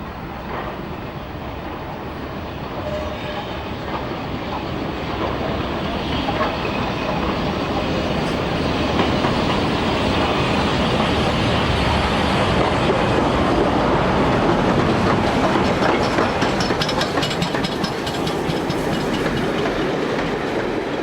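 A Black Five Stanier Class 5 4-6-0 steam locomotive runs tender first on a rail tour from Alton, its broad rumbling roar with steady clickety-clack of wheels building and holding loud and close throughout.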